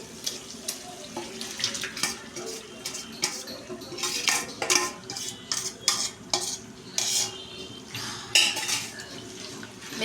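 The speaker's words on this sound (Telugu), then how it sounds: "ఇప్పుడు చికెన్ వేసుకుందాం" Chicken being added to a metal cooking pot, heard as clattering utensils, clinks and scraping against the pot, with bursty handling noise close by.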